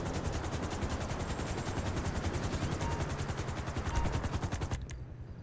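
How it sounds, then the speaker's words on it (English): Rapid rhythmic helicopter rotor chopping in Grand Theft Auto Online pulses steadily throughout, loud and close, then cuts off abruptly near the end. "Alright, Mr. Helicopter."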